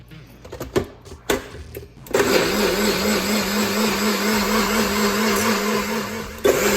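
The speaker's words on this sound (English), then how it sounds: "take this and put it in here to grind it. Make a puree." A personal bullet-style blender grinding cooked ingredients into a puree, a few short bumps and handling clicks, then a loud steady motor whir that runs for several seconds and cuts off.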